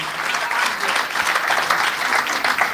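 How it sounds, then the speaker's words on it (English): Steady applause from a crowd at a political town hall forum in Kingston, dense clapping that holds at an even level throughout without a break. "So a round of applause to Dr. Andre Haughton once more."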